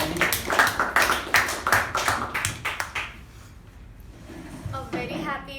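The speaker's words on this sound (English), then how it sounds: "A round of applause for Toastmaster Pavani." Scattered hand clapping from a small meeting audience honoring a Toastmasters evaluator, loud and close for about three seconds, then fading to near quiet before a voice begins speaking at the end.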